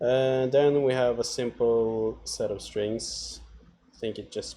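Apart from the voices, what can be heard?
No everyday noises stand out.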